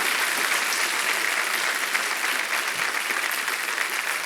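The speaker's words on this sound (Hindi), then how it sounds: "तालियां बजती रहें इनके लिए" Steady, loud applause from a TV quiz-show studio audience cheering a contestant, a dense wash of clapping that holds evenly throughout without a break.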